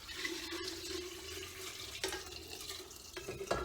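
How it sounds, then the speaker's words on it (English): Brine is poured over pickled eggs and sausages in a jar, a continuous close splashing and gurgling of liquid with small shifts in flow, and no talk. "then you just basically want to pour in your brine"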